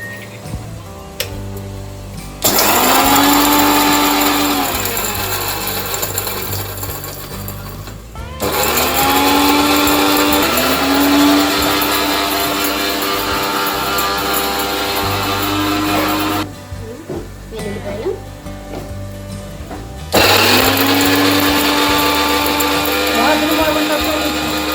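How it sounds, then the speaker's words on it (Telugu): A kitchen mixer grinder grinds garlic in three loud whirring runs, each motor spinning up and then holding a steady high whine, separated by brief stops with low background voices. "ఇది లోపల మిక్సీ పెట్టమంటారా?"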